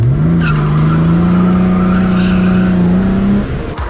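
A Jaguar XJ6 Series 1 with a manual-swapped 4.2 liter inline six on triple carbs drives under load, its steady engine drone rising slightly in pitch, loud and close, easing off near the end.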